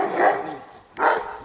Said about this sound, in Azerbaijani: 4 dənə də açıq it var.